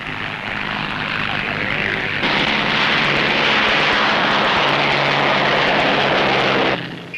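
Vintage propeller aircraft taking off at the start of an air race, a loud continuous engine drone that swells and holds steady before easing slightly at the end, with an old newsreel-style narrator speaking over it.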